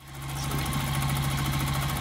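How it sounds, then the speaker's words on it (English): A sewing machine hums steadily at close range, stitching a fabric patch onto denim jeans, its motor whirring continuously with a fast rhythmic stitching beat and no voices. "now I will go back to my sewing machine and I will be stitching on diagonal"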